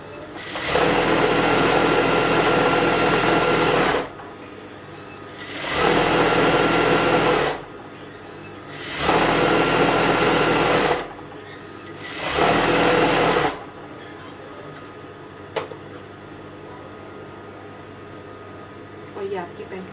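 A sewing machine stitching an elastic waistband on a pant runs in four loud, steady bursts of several seconds each, with short pauses between them, and ends in quieter handling noise.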